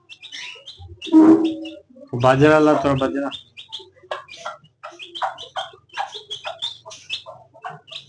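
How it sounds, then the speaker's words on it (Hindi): A hen with her chicks gives clucks and a run of short, high peeps and chirps, close by and scattered across several seconds, while a person speaks intermittently nearby. "ये रहे हमारी मुर्गी और बच्चे थी"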